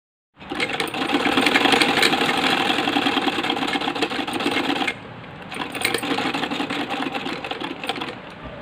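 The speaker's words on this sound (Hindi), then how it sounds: "इस तरह से फोल्ड करके यहाँ पर हम सिलाई लगाएंगे।" A sewing machine runs fast, stitching a folded waistband for elastic on palazzo pants, with a close, even mechanical whir. It pauses briefly near the middle, then resumes at a slightly lower level.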